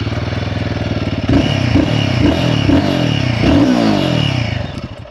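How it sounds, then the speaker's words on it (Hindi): Close, loud exhaust of a Royal Enfield Guerrilla 450 idling with a throbbing beat, then blipped through four or five quick revs, ending in a longer rev that drops back to idle. "पहले तो एग्जॉस्ट हम चेक करो।"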